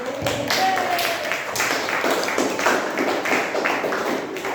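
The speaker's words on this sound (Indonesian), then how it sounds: "Kasih tepuk tangan buat kelompok 1" Classmates clap for the first discussion group in a classroom, a brief dense burst of hand claps that runs steadily for a few seconds, close and fairly loud.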